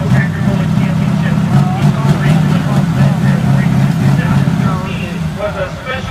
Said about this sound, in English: hear that growl? That Massey's definitely got a warpath setup